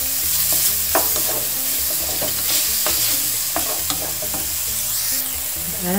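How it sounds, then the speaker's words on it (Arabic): Garlic and ginger fry and sizzle in a pan with soy sauce, rice vinegar and black pepper while being stirred for Chinese egg noodles, a steady loud crackle broken by scraping stirring strokes throughout. "الآن ضيف معه مباشرة الثوم والزنجبيل"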